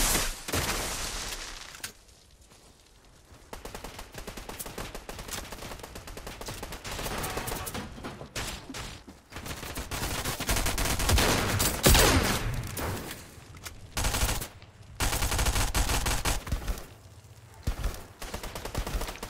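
Gunfire in the video game Fortnite, repeated bursts of rapid automatic shots and single cracks, loud and close, with short pauses between volleys and no voices.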